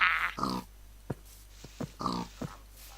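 A Minecraft pig grunts and oinks several times in short close bursts, separated by a few faint clicks.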